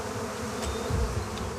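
Wild honeybees buzzing around a woodpecker nest hole in a tree, a dense, continuous hum heard close and alone for under two seconds.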